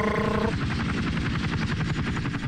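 A helicopter's steady, loud rotor thump pulses throughout an action movie scene, a dense rhythmic chop with engine whine, after a brief tonal musical sting at the start.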